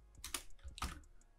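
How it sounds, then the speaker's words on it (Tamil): Fingers type on a computer keyboard in two quick bursts of soft key clicks, faint and close, with no speech. "நான் வந்து ஹாய் குட் மார்னிங் அப்படின்னு டைப் பண்ணுறேன்"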